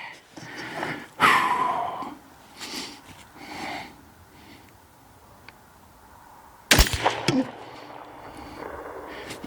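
Two sharp, loud reports from an AR-10 rifle firing Sierra 168 grain MatchKing bullets at an outdoor range crack out several seconds apart, each followed by a short decaying echo, with breathing and rustling between them.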